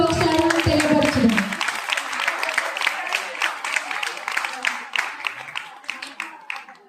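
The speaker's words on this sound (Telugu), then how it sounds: "వారికి కూడా చప్పట్లు కొడుతూ ఒకసారి మనం తెలియపరచుదాం" An audience claps for shepherds at a gathering; after a brief voice at the start, dense applause builds, then thins into scattered, uneven claps that fade toward the end.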